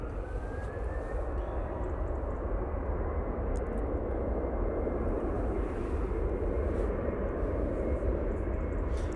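An airliner at Manchester Airport gives a loud, steady broadband engine roar that stays constant and close, with a faint rising whine early on and no voices.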